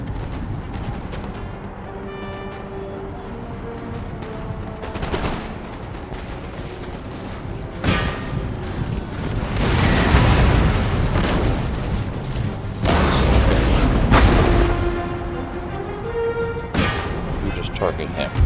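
Musket volleys and booming artillery fire from a Napoleonic-era battle in Total War: Empire, with Russian forces facing pikemen and militia, crack and rumble in several heavy bursts, some sharp reports scattered between.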